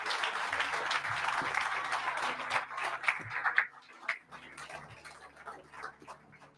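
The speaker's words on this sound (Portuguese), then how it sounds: "Dê um aplauso a Jesus." Church congregation applauding after a call to praise, a dense burst of clapping that thins out after a few seconds into scattered claps, with voices murmuring underneath.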